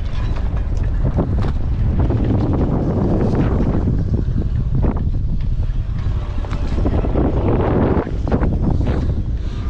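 Strong storm wind gusts in Mumbai, with boats battered along the shore, roaring steadily and loudly across the whole stretch with buffeting on the microphone and a brief dip in the gusts near the end.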